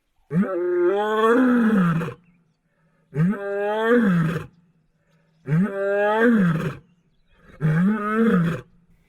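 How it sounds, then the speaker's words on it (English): A lioness in the wild roars in four long, loud, close calls, each a rising and falling bellow separated by short pauses, with nothing else audible around them. "Suddenly we heard Savannah roaring"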